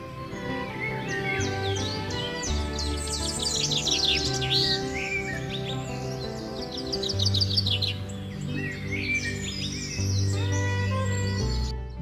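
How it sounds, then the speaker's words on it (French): Birds singing in a natural setting, several bright trilling and chirping phrases close by over a sustained low musical drone, loud and continuous throughout. "Vous entendrez les mots de bienvenue chantés par ces oiseaux."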